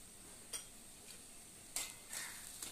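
A spoon scrapes and clinks against a pan while potato and bitter gourd curry is stirred, a few sharp scraping strokes spaced irregularly over a quiet background of low cooking noise.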